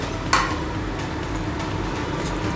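Water splashes into a pan of sizzling egg curry masala with a quick sharp hiss, then a steady, low bubbling sizzle continues.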